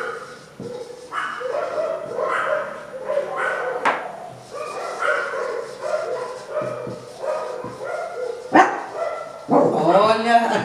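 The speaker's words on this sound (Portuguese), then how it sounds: "Olha a trilha sonora de cachorro latindo." A dog barks repeatedly with sharp yips and whimpers, mixed with people talking nearby throughout.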